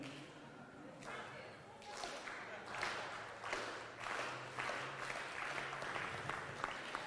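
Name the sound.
audience slow clap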